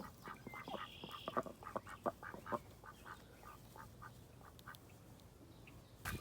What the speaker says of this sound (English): The ducks are out here and they just knocked my camera over.